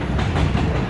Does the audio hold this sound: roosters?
no